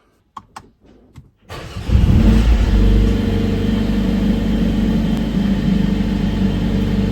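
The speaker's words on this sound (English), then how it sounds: "Cold start is nice." Cold start of a 2025 Mercedes-AMG A45S facelift hot hatch early in the morning: a few faint clicks, then the engine fires with a loud rising flare and settles into a steady, strong idle rumble close by.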